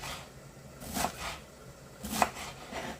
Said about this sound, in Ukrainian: потім повертаємо і нарізаємо, щоб вони були такими невеличкими кубиками